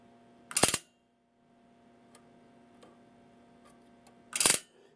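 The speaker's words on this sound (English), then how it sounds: "the gear drive is jumping some teeth" Tuning gear drive of a 1937 RCA Victor 811K console radio with worn teeth gives two sharp loud clacks about four seconds apart, with faint small ticks and a low hum between them.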